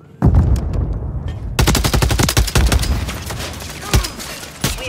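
Call of Duty Modern Warfare 3 multiplayer gunfire rattles in rapid automatic bursts, loud and close, with a brief pause before a dense stream of shots and a few heavier thumps near the end.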